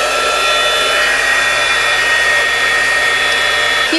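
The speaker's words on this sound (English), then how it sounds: "So anyways, back to the heat embossing gun. You just turn it on, and it's going to be a little noisy on the video." A heat embossing gun runs steadily for the whole stretch at polymer clay jewelry work, a loud, constant fan-driven whoosh with a bright airy hiss and no talking.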